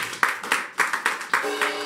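A church congregation claps to acclaim the Lord during Sunday worship, with a handful of sharp, close hand claps in an uneven rhythm, a light murmur of voices beneath.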